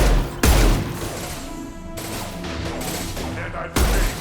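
Gunfire in a firefight in the video game Mass Effect 2, with loud, sharp shots at the start and end and a busier battle backdrop between them.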